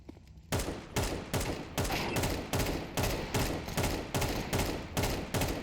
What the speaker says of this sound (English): you would never see Donk move and shoot with an AK